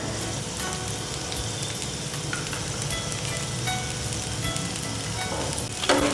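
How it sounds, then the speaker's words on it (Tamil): Pesarattu, a green gram dosa batter drizzled with oil, fries on a hot dosa griddle with a steady, dense crackling sizzle that stays even throughout. "இப்போ நம்ம தோசைக்கல் சூடானதுக்கப்புறமா நம்ம எடுத்து வச்சிருக்கிற மாவை அதில் ஊற்றிக்கோங்க."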